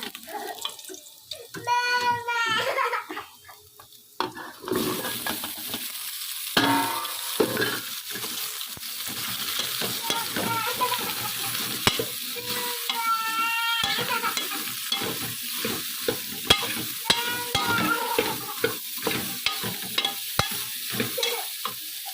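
Pumpkin sizzles in a hot pan with garlic while a utensil stirs and scrapes steadily, with occasional clinks and bursts of louder frying.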